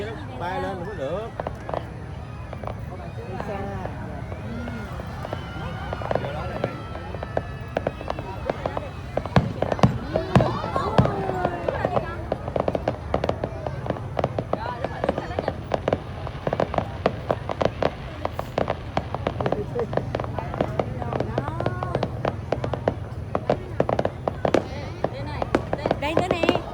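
New Year 2024 fireworks in Binh Duong, Vietnam, keep popping and crackling for nearly half a minute, dense and fairly near, while people nearby talk throughout.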